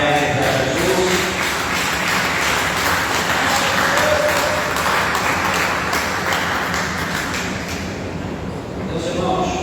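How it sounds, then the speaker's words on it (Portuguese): Church congregation applauding during an evening service, a loud, dense clapping wash that runs steadily and mingles with voices and crowd noise. "Quem pode dar uma salva de palmas bem alegre para Jesus"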